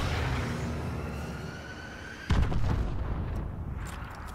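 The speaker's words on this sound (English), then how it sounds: "Friendly missile strikes incoming." A missile strike explosion in a first-person shooter game hits with a sudden loud boom partway through, after a stretch of steady noisy game ambience, and a rumbling tail with crackling follows.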